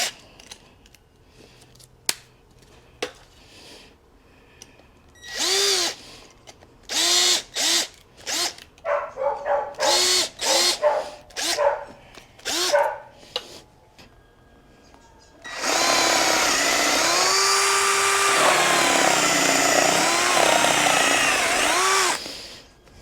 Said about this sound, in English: we're just going to drill out this section here